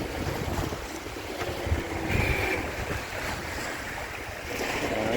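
Steady wind rush and sloshing, choppy waves against the hull of a sailboat underway off Quiberon, with constant low buffeting from wind on the microphone and no voices.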